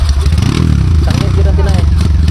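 A motorcycle engine runs steadily and fairly loud close by, with a low droning hum and some clatter, while a person talks over it.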